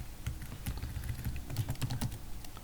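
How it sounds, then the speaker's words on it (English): A computer keyboard being typed on to enter a ROS run command in a terminal, with a quick, uneven stream of light clicking keystrokes, close and steady, and no talking. "I'm pressing Control R and then typing ROS run"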